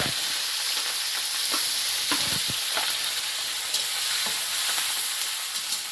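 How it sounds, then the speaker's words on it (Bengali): Dry chilli, whole garam masala, cumin, peppercorns, chopped onion, green chilli and garlic fry in oil, a loud, dense, continuous sizzle with occasional pops and crackles, no speech. "তেলে শুকনো লঙ্কা গোটা গরম মশলা গোটা জিরে গোটা গোলমরিচ সব দিলাম তো পেঁয়াজ কুচি কাঁচা লঙ্কা আর রসুন"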